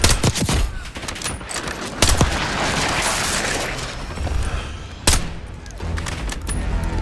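Gunfire in Call of Duty Black Ops 6, rapid automatic bursts crackling almost nonstop with several sharp heavy shots standing out, loud and close amid a busy combat mix.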